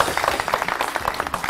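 Studio audience on a morning TV show claps in a brief, fairly light round, quick uneven hand claps close by with a faint voice underneath.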